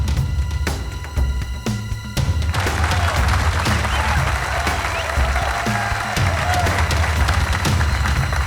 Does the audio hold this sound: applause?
yes